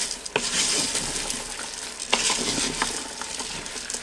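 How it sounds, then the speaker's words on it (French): A pot of stew with green lentils, diced celery and carrots being stirred: soft wet sloshing and a low simmering sizzle, with a few light clinks of the spoon against the pot. "On va mélanger."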